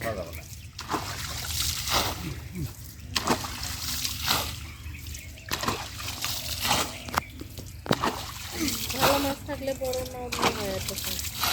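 Water is scooped and thrown out of a small pond while catching fish, with repeated splashes and trickling pours at an uneven rhythm. People talk over it outdoors.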